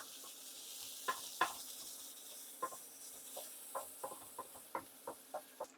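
Onion and garlic sizzle quietly in oil in a pot, a soft steady frying hiss broken by a series of light stirring clicks and scrapes.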